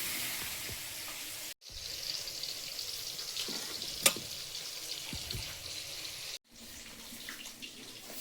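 Water pours into a pan of frying rohu fish curry with potatoes and cauliflower cooking on a gas stove, a steady rushing stream over faint sizzling, broken by two brief pauses in the flow.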